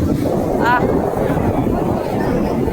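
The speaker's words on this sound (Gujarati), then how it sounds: "પવન પણ જોરદાર છે." Strong wind buffets the microphone at Tithal beach in Valsad under an overcast sky. A loud, steady rumble lasts throughout, with a brief voice in the middle.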